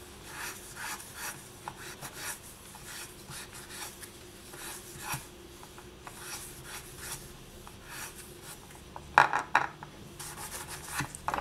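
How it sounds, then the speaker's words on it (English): A polymer clay shell pendant lightly sanded for highlights, quiet rapid rubbing strokes in short rhythmic bursts, close and soft, with a sharper scrape near the end and no speech. "we're also just going to kind of sand it a little to give some highlights"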